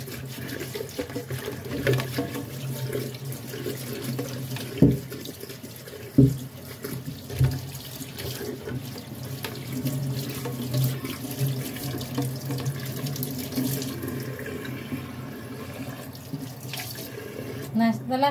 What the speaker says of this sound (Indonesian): kita cuci dulu pepaya mudanya dengan bersih ya. Ini dicuci dulu sampai bersih.